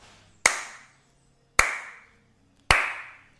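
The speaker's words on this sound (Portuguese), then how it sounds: "Eu vou bater palmas, ó." Three single hand claps from one person, loud and close, spaced about a second apart, each leaving a brief room echo before silence.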